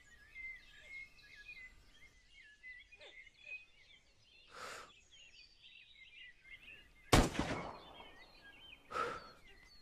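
A single sharp sniper shot cracks out loud and short in the open-world prison game SCUM. Quiet bird chirps and soft rustling come before and after it.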